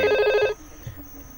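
A VoIP desk phone gives an incoming electronic ring, a bright warbling tone lasting about half a second before cutting off into near silence with faint background noise.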